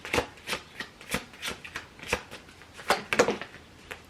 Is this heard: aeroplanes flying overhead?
no